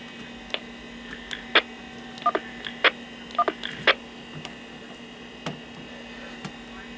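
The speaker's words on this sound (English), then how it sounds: "You can hear the DTMF tone." A short burst of DTMF touch-tone beeps from a Kenwood NX5300 radio, several quick dial tones in a rapid sequence over a steady low hum, with faint ticks afterward.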